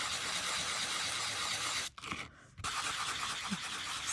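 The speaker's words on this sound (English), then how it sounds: "now once again using our sanding block, holding it horizontal, we are going to gently" Sanding block buffing the raised areas of crumpled metal tape, a steady close scratchy rubbing that runs almost continuously, with a short break in the middle before it resumes.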